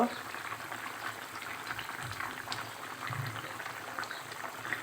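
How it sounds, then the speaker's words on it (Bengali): A pot of chotpoti dal on the boil gives a steady, soft bubbling hiss at close range, fairly quiet, with a few low bumps. "এদিক থেকে কিন্তু চটপটি ডাল ফুটতেছে"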